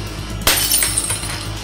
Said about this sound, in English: on the instant that the glass would shatter